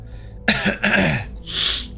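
Characters coughing in the game Starfield: a few harsh, close coughs and throat-clearing bursts in quick succession, followed by a breathy rasp.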